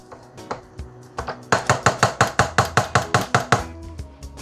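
Walnut cake batter mixed quickly by hand, a run of rapid, evenly spaced clacks and scrapes against the bowl, close and loud, speeding into a steady rhythm of about a dozen strokes.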